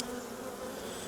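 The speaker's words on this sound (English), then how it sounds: "I've got a couple of bees in here, and I don't know how they got in here." Honey bees buzz steadily inside a beekeeper's veil, a dense, close, continuous drone with no pauses.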